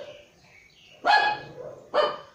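Household dogs in the background give two sharp barks about a second apart, fairly close and clear, after a quiet stretch of faint noise.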